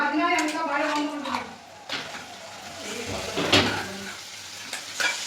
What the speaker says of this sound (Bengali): আমাদের মশলাটা অনেকটা ভাজা ভাজা হয়ে গেছে এবার এর মধ্যে আমরা ম্যারিনেট করা চিকেনটা দিয়ে